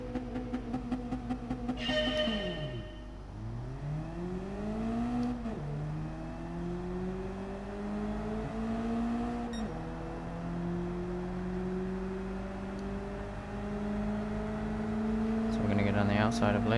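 A Mazda NR-A race car's engine revs hard and climbs through the gears at a race start in a driving game, joined by other cars' engines droning nearby, with no talking.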